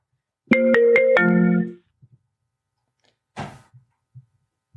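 A phone call rings out as a short melodic electronic tone of four quick notes before cutting off, followed by a few faint low clicks and a brief rustle.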